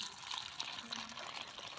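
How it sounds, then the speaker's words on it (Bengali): Water is poured over lentils and bean seeds to soak them for a village-style dal, making a soft, steady splashing and trickling that runs throughout, faint and close. "জল দিয়ে ভিজিয়ে দেব।"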